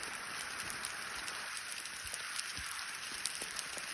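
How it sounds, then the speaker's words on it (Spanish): Steady hiss of hail pattering on a surface at Pantano Hondo lagoon, with occasional louder individual hits, continuous and fairly even throughout. "Granizo, granizo en Pantano Hondo."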